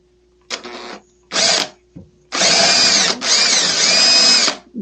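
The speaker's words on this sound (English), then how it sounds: "I can actually drill deeper, where if I had been off just a little bit underneath, I would have been drilling on an angle." A power drill bores into a wooden chair during a repair, whining in several bursts: short trigger pulls at first, then two long, loud, steady runs up close, with no talking.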